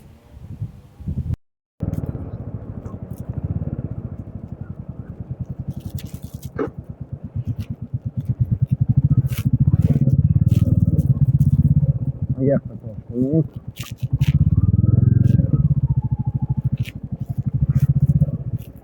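A motorcycle engine rumbles steadily close by on a country road trip in Haute-Marne, France, rising and falling with the ride, while someone talks over it and wind buffets the microphone.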